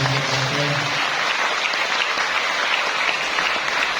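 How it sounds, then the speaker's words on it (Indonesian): An audience at a Buddhist gathering breaks into sustained, dense applause, steady and fairly close, with a brief voice at the start. "Beri aplaus yang luar biasa"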